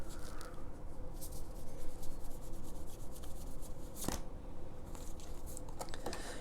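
Tarot cards are shuffled and drawn, giving soft rubbing and papery slides with a few crisp snaps, close and quiet over a steady background hiss.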